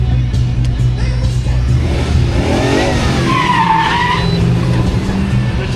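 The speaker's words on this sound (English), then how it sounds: "Greg up on the line in that 86 Corvette." A 1986 Corvette running an autocross course, its engine droning loud and steady with tire skids and squeal rising in the middle, while an announcer talks over it.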